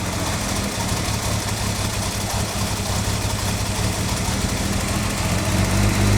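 A Datsun 280Z engine idling with a spark plug wire pulled from one cylinder, a loud, close, steady rumble with a rough, uneven beat and no talk.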